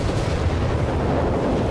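Nebelwerfer rocket artillery firing in the Company of Heroes 3 video game, a steady, loud rumbling roar that holds without clear breaks through the short moment.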